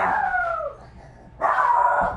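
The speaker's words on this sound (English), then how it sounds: "My dogs are freaking out." Dogs bark and howl nearby in two drawn-out bursts separated by a short quiet gap.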